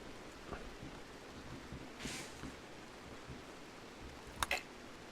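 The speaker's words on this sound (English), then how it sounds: "It is hard to find steel in this driving rain" Driving rain in the video game RimWorld, a faint, steady patter of falling drops with a couple of brief sharper splashes or ticks, heard alone without talk.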